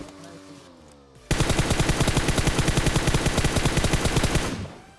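A suppressed AKM fires in a shooter video game, a rapid, even burst of muffled shots lasting about three seconds after a quieter stretch of game ambience.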